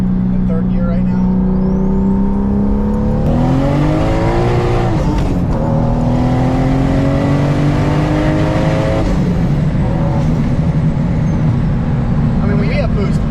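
A 650whp Lexus IS300 with a 4.10 differential pulling in third gear at around 35–40 mph, engine drone rising in pitch as it accelerates, then settling, loud from inside the cabin.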